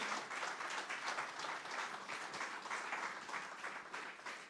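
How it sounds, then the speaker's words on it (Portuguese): A church congregation claps during a worship sermon, a soft, continuous patter of many hands heard from a distance and sustained throughout. "Damos um aplauso para esse Senhor maravilhoso"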